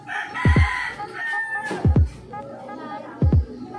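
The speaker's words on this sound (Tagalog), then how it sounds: "Sorry guys, may manok." A chicken clucks and squawks in the background, with a few short, sharp bursts spaced a second or so apart.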